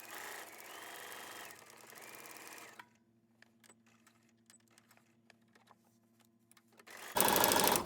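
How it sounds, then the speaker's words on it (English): A sewing machine stitches around the edge of a paper envelope for a junk-journal collage, a loud steady whirring run at the start and again at the end, with a quiet stretch of small clicks and handling noises between. "I'm just going to sew around."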